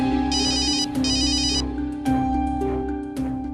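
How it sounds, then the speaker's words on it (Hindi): A phone ringtone plays: a bright electronic melody in repeated bursts over a sustained tone, loud and close, with no voices. "उठा लीजिए फोन।"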